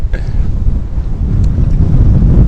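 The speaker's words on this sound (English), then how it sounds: "Though it is very windy, I wasn't expecting this wind." Strong gusts of wind buffet the microphone in a Canadian storm, a loud, continuous low rumble that swells and dips without a break for the whole stretch, with no voices over it.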